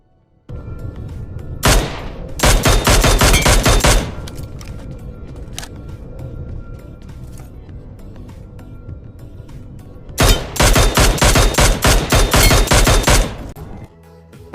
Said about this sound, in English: You will hear a specific sound when you hit a headshot.